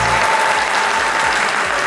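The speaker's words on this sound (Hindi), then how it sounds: "भरपूर तालियों में इस्तकबाल कीजिएगा" A studio audience at a talk-show taping applauds a host's entrance with loud, dense, steady clapping filling the whole moment.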